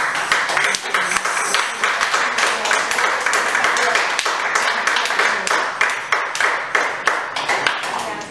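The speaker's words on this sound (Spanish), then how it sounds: "Le doy un aplauso al Señor, hermano." A church congregation applauding the Lord during a Spanish-language service, a dense, steady clapping of many hands that runs throughout, loud and close, with no speech over it.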